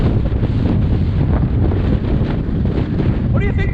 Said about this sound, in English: it's a bit breezy. There's a hurricane off the shore